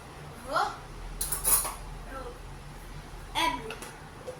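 A frying pan clanks and rattles against metal on a stovetop while someone talks. Brief knocks and scrapes come in clusters, close by and fairly quiet.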